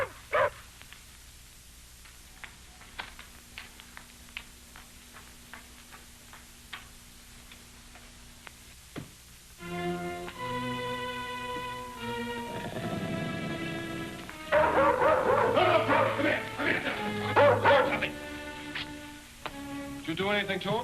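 A dog in a 1939 serial barks in short bursts after a stretch of ticking clock sounds, the yaps growing louder and more excited toward the end, with voices nearby.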